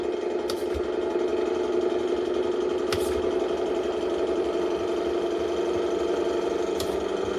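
An RC Scania 8x4 truck's V8 sound module idling in first gear, a steady mid-pitched electronic engine rumble holding even, with a few brief clicks breaking through.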